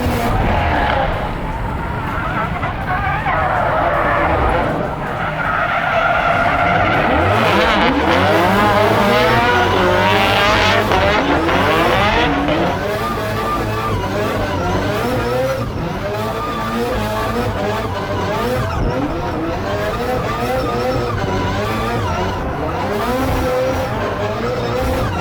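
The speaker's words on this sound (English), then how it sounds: "I think we're just going to see a little bit of a demonstration of donuts here." Four-rotor Nissan S15 Silvia drift car doing donuts at a demo run in Sydney: a loud, continuous rotary engine wails and warbles alongside screeching, skidding tires, close and sustained throughout.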